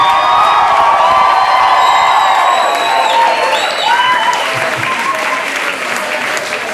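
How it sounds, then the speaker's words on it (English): Loud, sustained applause fills the room at a spoken word open mic night in Rwanda, with scattered whoops and cheers rising over the clapping crowd before it eases slightly toward the end. "I need another round of applause. A loud one!"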